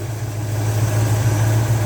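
Car engine idling during carburetor tuning, a loud steady low hum with even vibration throughout, close up and alone.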